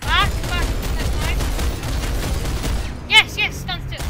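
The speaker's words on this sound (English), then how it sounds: "Stop so I can shoot the turret." Gunfire at a turret in the sci-fi shooter PlanetSide 2: a dense rattle of weapon fire and chirping energy shots, moderately loud, with a thump near the end and people talking over it.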